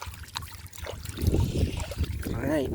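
Pond water trickles and flows in nearby with small splashing, while people talk over it.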